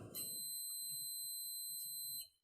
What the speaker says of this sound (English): you will hear the buzzer sound